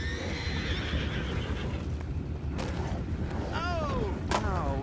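Horses whinny twice in the video game Red Dead Redemption 2, a rising-and-falling neigh followed by a sharper one, over a constant low rumbling ambience with creaks and hoofbeats.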